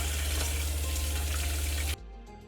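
Water gushes steadily from a tap in a converted step van for about two seconds, then cuts off abruptly, leaving a quiet room.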